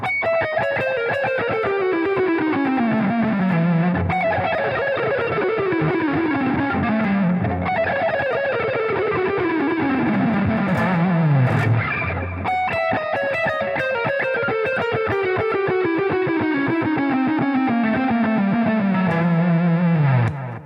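Distorted electric guitar runs quick descending diminished scale patterns with an effects-laden, slightly chorused tone, playing continuously and loudly with no talking.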